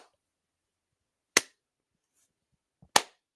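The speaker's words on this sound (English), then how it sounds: "Let's just give them a slow clap." Two slow, widely spaced claps, sharp and isolated against near silence, about a second and a half apart.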